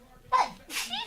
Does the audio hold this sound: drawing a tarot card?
no